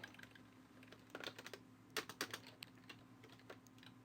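Code being typed on a computer keyboard, a steady run of quiet, close key clicks in irregular bursts, with a few louder clusters near the middle, alone with no talking.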